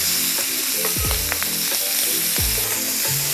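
Cayenne-seasoned shrimp sizzle steadily in a hot pan while being flipped, a continuous loud frying hiss with a few scraping, clinking touches of the utensil against the pan.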